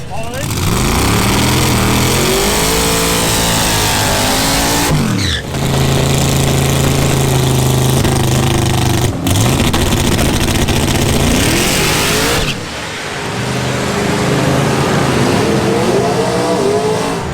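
A drag race car, a Camaro at LS Fest 2019, makes a pass with a loud, sustained engine roar that rises in pitch, breaks briefly at two gear changes, and keeps revving near and dominant throughout.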